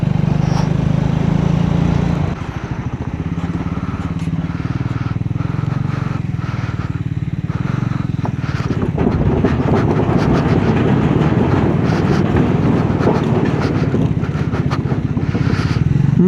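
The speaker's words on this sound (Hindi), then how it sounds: "जहाँ बाइक चलाने का मज़ा आता है।" A motorbike rides a high mountain road on the Leh-Ladakh route toward Manali, its engine a steady loud drone throughout, with rumbling and rattling over rough surface in the latter half.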